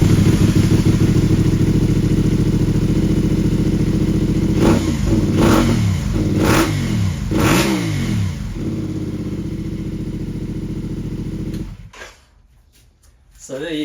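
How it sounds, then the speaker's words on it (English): A CF Moto 450MT Ibex motorcycle fitted with a Yoshimura exhaust idles loudly up close, then gives about four sharp throttle blips before settling back to idle and cutting off near the end. "Yoshimura pipe on my 450MT. Sounds a lot better than I thought it would."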